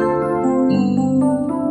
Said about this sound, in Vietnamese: nó ra được cái tiếng piano điện nha.